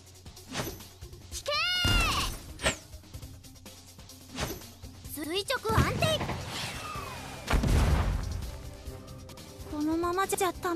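Heavy booms from tank cannons firing in the strategy game Panzer Waltz, several loud deep thuds spread across the stretch with whining and chirping effects between them, all heard under a talking voice.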